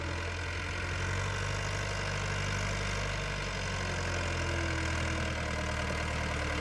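Vehicle engines idle and rumble on a valley dirt track in Nepal, a steady low drone that runs unbroken and fairly close throughout, with no voices.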